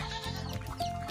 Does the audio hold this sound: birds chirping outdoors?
no